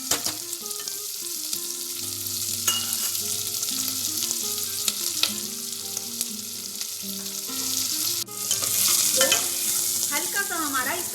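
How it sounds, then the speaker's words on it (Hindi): Onions sauté in a pan for a shaam savera dish, a steady close sizzle with stirring scrapes and clinks, tonal hum underneath and a louder burst of hiss near the end; no talking. "हल्का सा इसको कलर चेंज करते हुए हम थोड़ा सा भूनेंगे, बस हल्का सा कलर चेंज होना चाहिए।"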